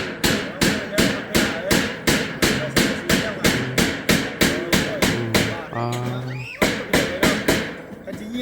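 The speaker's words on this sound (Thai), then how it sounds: "ตอกผู้เดียวเลยเหรอวะ" Steady, loud hammering while building a chicken coop, with even blows landing about twice a second in a regular rhythm, and someone speaking briefly between strikes.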